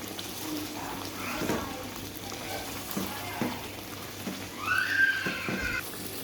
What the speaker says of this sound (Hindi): अब हम इसके अंदर डालेंगे जीरा और कुछ धनिया का पाउडर। अब हम इसको भून लेंगे।